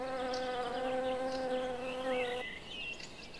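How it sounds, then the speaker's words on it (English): Bumblebees and honeybees gathering pollen among blossoms make a close, steady buzzing hum that shifts pitch partway through, with a softer drone continuing afterward. "Bumblebees and honeybees collect protein-rich pollen too."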